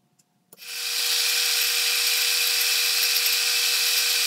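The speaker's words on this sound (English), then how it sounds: "I'm using the Scout Crafter method of reshaping a flat blade screwdriver shank." Steady, harsh grinding of a flat blade screwdriver shank being reshaped, starting abruptly after a few faint taps and continuing loud and unbroken at close range.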